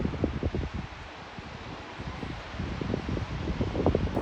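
Strong wind on a beach buffets and rumbles against the microphone in a continuous, close, gusty roar with irregular low thumps throughout.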